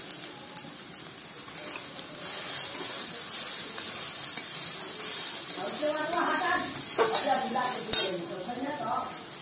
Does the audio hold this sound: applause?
no